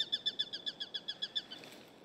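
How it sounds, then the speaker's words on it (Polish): Birds in the video game Dying Light 2 chirp in a quick, even series of about ten bright tweets at a moderate distance, fading out toward the end with no talk over them. "Ptaszki. Słychać."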